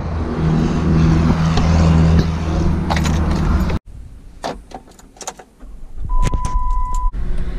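Entering a family car: a loud engine and road rumble cut suddenly to a quieter cabin, followed by scattered clicks, key jingles and door or seat thumps nearby.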